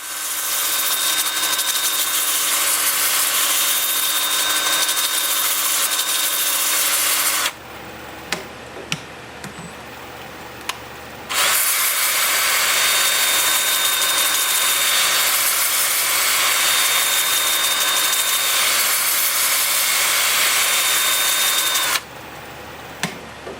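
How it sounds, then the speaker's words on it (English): A wooden bowl spun on a lathe and sanded with 80 to 400 grit paper, a loud steady whir and hiss running in long stretches, with a pause of quieter motor hum between them. "time for sanding"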